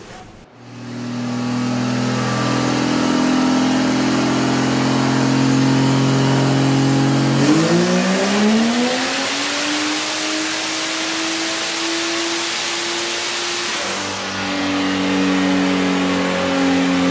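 A Chevrolet Vortec 4200 inline-six revs on a dyno, a loud, close engine note climbing steadily in pitch through the pull, then dropping back near the end with a hissing rush of air.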